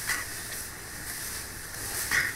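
Milk squirting from a cow's teats as it is milked by hand in a morning cowshed: soft, close hissing streams with brighter spurts at the start and end.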